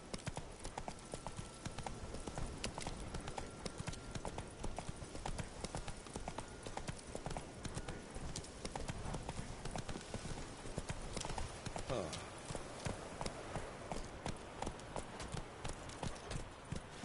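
Hooves of the horse Roach trotting in the video game The Witcher 3, a steady clip-clop rhythm that runs throughout at moderate volume, no talking over it.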